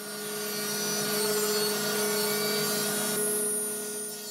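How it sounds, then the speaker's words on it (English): A large poplar beam is milled square on woodworking machines, giving a steady, loud mechanical whine with a constant droning hum that runs unbroken through the whole stretch. "me taking this giant poplar beam that I've had laying around and in the way forever and milling it up nice and square"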